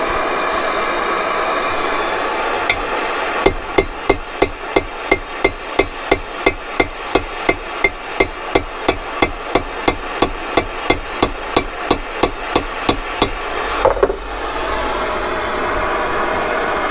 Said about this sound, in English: Just keep tapping this in slowly, keeping the heat on.